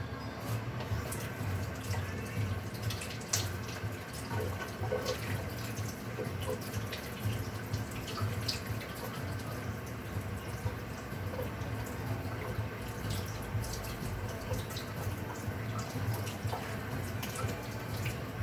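Tap water runs steadily into a kitchen sink while spring onions are rinsed, a soft, continuous splashing stream heard nearby with no talk.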